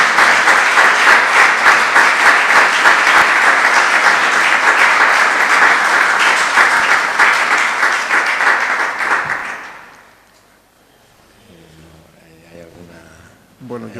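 Sustained applause from an audience at a literary book-night gathering, loud and dense for about nine seconds before quickly dying away, followed by quiet room sound and a speaking voice.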